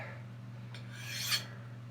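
A knife blade is drawn along a ceramic sharpening rod in a couple of quiet, close rasping strokes, the second longer and slightly louder, over faint electrical hum.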